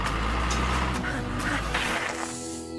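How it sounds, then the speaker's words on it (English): Cartoon digger vehicle arriving, a rumbling motor with squealing, skidding tyre-like noise building close by and then easing off, with a voice faintly underneath. "It sounds like Scoop's back"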